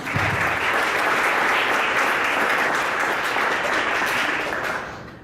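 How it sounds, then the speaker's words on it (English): A panel session audience applauds its panelists in a full, sustained round of clapping that swells quickly and fades out near the end. "let's give a quick round of applause for our panelists"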